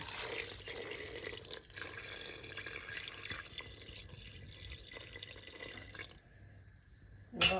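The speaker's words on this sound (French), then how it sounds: "On va couvrir notre viande d'eau chaude et on remet un peu sur le gaz" Hot water pours from a pot over meat for Moroccan seven-vegetable couscous, a soft continuous splashing and trickling that runs for several seconds, then stops abruptly, followed by a brief clatter.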